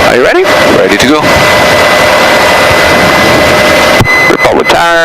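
A Cessna 185's engine roars steadily and loudly, close up, from the cockpit in gusty wind, with radio-style voices cutting in briefly at the start and end.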